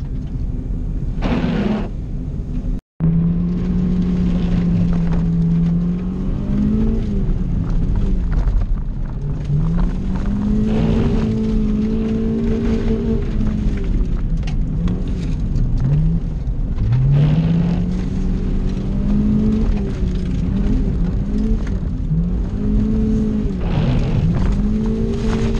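A stock EK hatchback on studded tires ice racing revs hard and close, its engine pitch climbing and falling repeatedly through a long run in first gear, with a short sharp break early on.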